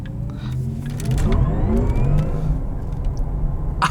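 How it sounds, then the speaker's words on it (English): A 2020 Porsche Taycan Turbo S pulls away with its electric sport sound engaged, a synthetic whirring drone that rises in pitch as the car accelerates, heard loud from inside the cabin over road rumble. "I have electric sport sound engaged too"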